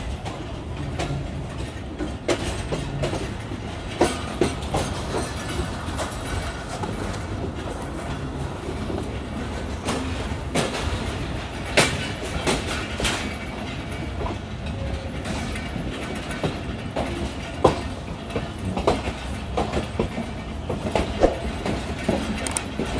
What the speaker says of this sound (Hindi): कोटरी जंक्शन प्लेटफार्म नंबर 3 पर 42 डाउन कराकरम एक्सप्रेस